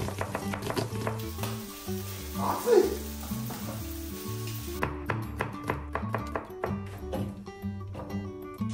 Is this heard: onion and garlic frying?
yes